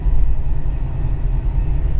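Low, steady engine rumble from a 1964 hot rod fitted with Flowmaster exhaust, a close, continuous idle with deep throb and no voices.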